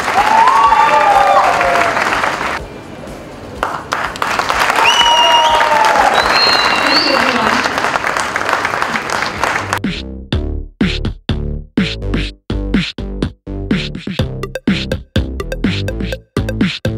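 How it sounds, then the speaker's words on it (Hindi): Audience applause and cheering on the set of a televised dance show, starting under loud voices, swelling into a sustained roar, then giving way to rhythmic synchronized clapping toward the end. "तो एक बार जोर से तालियां बजाएं।"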